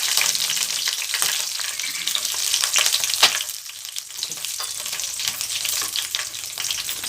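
Curry leaves and green chilies fry in hot oil with fennel seeds for an egg curry, giving a loud, close, continuous sizzle with crackles and stirring scrapes throughout, no speech.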